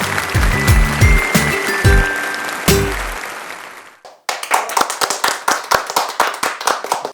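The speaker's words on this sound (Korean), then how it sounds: "박수로 맞이해주세요." A Korean welfare program's online showcase event: an audience bursts into loud clapping to welcome the disability community integration staff, a dense burst at first, then after a brief pause steadier, sharper individual claps continuing close by.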